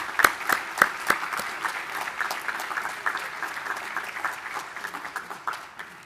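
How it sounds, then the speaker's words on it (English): An audience at a spring awards ceremony applauds faculty and staff. Steady, moderately soft clapping from a sizeable crowd lasts the whole stretch, with a few crisp individual claps near the start. "Let's give a big round of applause for our faculty and staff"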